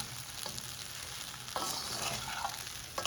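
Sago khichdi with mixed vegetables cooks over a low to medium flame, a soft steady sizzle broken by a spatula scraping and stirring the pan in a couple of brief bursts; no voices.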